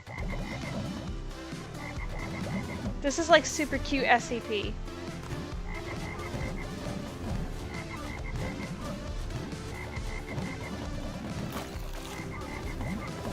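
Frogs croak repeatedly in a video game, rhythmic ribbits recurring against busy background music while a person talks over them.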